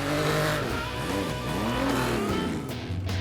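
A race car engine revs hard and accelerates for about three seconds, loud and close, its pitch sweeping up and down with gear changes and no voices over it.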